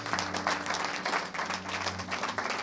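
A church congregation applauds the Lord, a dense, sustained wash of clapping and cheering from many people that stays steady and loud throughout, with a low hum from the sound system underneath.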